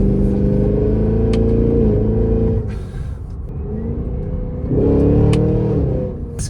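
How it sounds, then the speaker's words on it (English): A Cadillac Escalade V with its V8 engine revs hard in a deep, loud rumble at close range. The engine surges, drops back to a lower growl, then climbs again with heavy harmonic roar, and nobody speaks. "everything is drowned out by this enormously loud V8"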